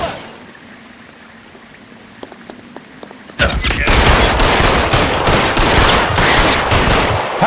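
Gunfire erupts in the L.A. Noire video game after a few quiet seconds with faint scattered clicks: a loud, dense, crackling stream of rapid shots like a tommy-gun barrage that holds steady to the end.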